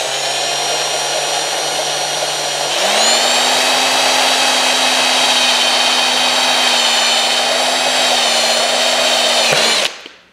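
A power drill whines steadily up close as it bores through a plastic panel on a KLX300 dirt bike, its pitch stepping up partway through before it stops abruptly.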